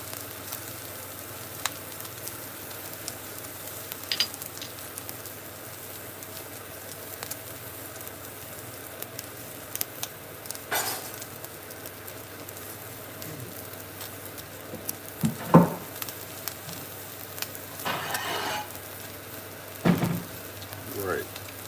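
Egg omelette frying in a pan for a backyard breakfast, a soft steady sizzle running throughout at low level with a few sharper clicks and scrapes, no talking.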